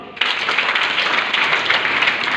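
A school audience at a play bursts into loud, sustained applause after a brief pause, many hands clapping close and continuously without speech.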